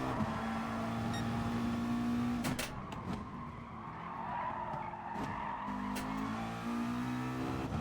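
Race car engine drones steadily in Gran Turismo Sport, with tires skidding and squealing as the car nearly spins off under a yellow flag, plus a few sharp bumps and clicks, all loud and continuous.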